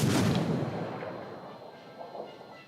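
A cruiser fires high-explosive shells in a naval battle game, a heavy booming salvo up front that rolls off into a long fading rumble with a smaller thud near the end.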